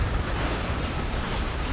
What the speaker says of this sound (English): my screen is shaking from all the explosions